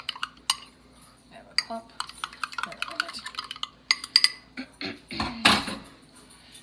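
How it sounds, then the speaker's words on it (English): A whisk clinks and scrapes around a bowl as a cornstarch slurry for an Instant Pot pot roast sauce is mixed, in quick irregular taps with a louder rattle near the end; a voice speaks briefly. "Just give it a whisk. Make sure it's nice and dissolved."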